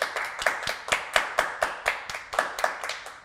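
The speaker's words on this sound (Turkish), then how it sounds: "Bir alkış alalım hediyeye be." Rhythmic clapping from a studio audience at a Turkish comedy show, about a dozen crisp claps in a steady beat, fairly close and without talk.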